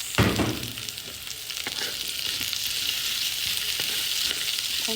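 Onions drop into hot oil with lemongrass and ginger for chicken tinola, giving a sudden loud sizzle burst that settles into a steady, close frying hiss with occasional stirring taps.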